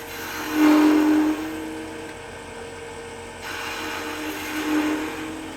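A wood lathe is flattening the bottom of a rustic wooden birdhouse ornament. It gives a steady hum with two louder bursts of cutting where the tool meets the spinning wood.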